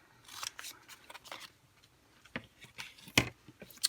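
Scissors snip through adhesive vinyl for a Cricut Joy craft project, a few sharp close cuts spaced irregularly with one louder crisp snip near the end, otherwise quiet.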